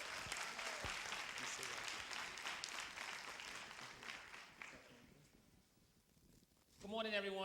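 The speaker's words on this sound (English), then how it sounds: "Let's applaud God for Mike and Ramona Woods" A church congregation applauds at a Sunday stewardship service, a moderately loud patter of clapping that thins and fades over several seconds before a voice begins speaking at the end.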